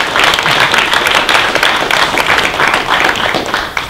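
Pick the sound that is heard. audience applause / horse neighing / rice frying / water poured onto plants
audience applause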